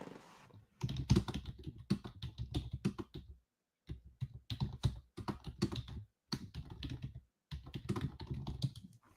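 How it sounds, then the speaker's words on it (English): Rapid typing on a computer keyboard comes in several short bursts of quick clicking keystrokes, separated by brief silent pauses, faint and close. "So I'm going to type in the chat."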